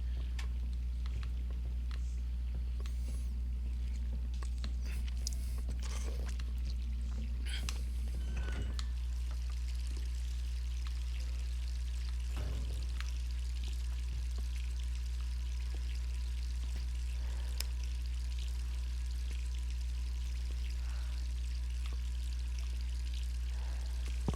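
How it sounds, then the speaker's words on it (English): Steady running water in a dim interior of the game Resident Evil 3 Remake, a continuous pouring stream with scattered knocks and clicks over a constant low hum, sounding close and unbroken throughout. "The water does seem to, in fact, be running, which is kind of creepy."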